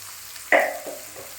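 Spices hit hot oil in a pan for egg curry with capsicum, giving a sudden loud sizzle that fades quickly, followed by a couple of softer stirring scrapes.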